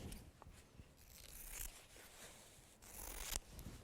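Scissors cut through a piece of fabric used to antique a mirror, making a run of quiet, close snips and soft rustling crunches with no talking.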